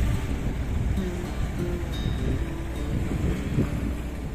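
Wind rushing steadily over a sailboat heading toward Gijón in a swell, a constant broad blustery hiss with low rumbling buffets and faint water sloshing beneath, close to the microphone.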